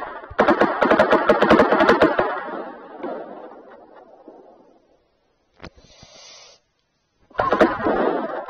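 Rapid machine gun fire in a war video game crackles in a loud, close burst, then tails off into a quieter rattle, goes briefly silent, and returns in another strong burst.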